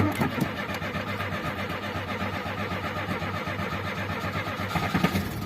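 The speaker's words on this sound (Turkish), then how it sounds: "İşte bu şekilde aracı da çalıştırdıktan sonra hadi de çalıştıralım." A cold Renault 21 car engine cranks and catches, then runs with a rough, pulsing mid-range idle, loud and close throughout without any voices.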